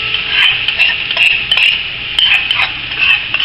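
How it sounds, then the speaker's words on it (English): Celery and onion sizzle in hot oil on a high-heat burner, a steady loud frying hiss with light clinks of a pan and utensil, no voices. "My oil's ready, so I'm going to drop in my celery and onion"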